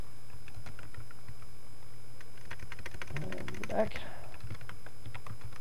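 A password is typed on a computer keyboard, a steady run of close, crisp key clicks, with a brief spoken word partway through.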